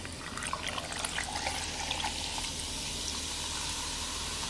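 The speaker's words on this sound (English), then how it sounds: "I'm gonna go ahead and pour the entire can of key lime LaCroix over" Key lime LaCroix pours from a can over ice as a continuous fizzing splash with crackling bubbles, heard close and steady for several seconds.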